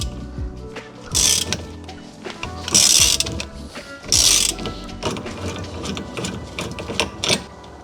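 A ratchet breaks loose the steering wheel hub adapter for an NRG wheel in a VR6-swapped MR2 Spyder, with repeated bursts of rapid clicking pawl strokes amid mechanical clatter, close and fairly loud.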